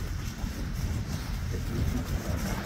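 Cold, frosty wind blowing outdoors across snow, roaring and buffeting steadily at close range as one continuous loud rumble with no clear gusts or pauses.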